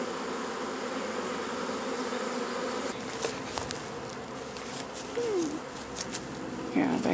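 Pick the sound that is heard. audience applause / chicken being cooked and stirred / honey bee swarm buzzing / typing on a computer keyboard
honey bee swarm buzzing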